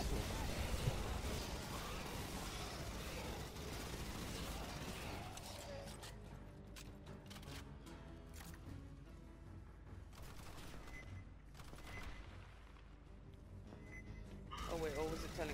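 Dense, continuous gunfire and mechanical weapon noise from the sci-fi shooter game Aliens: Fireteam Elite, loud and sustained, then thinning into scattered shots and clanks, with players talking over it.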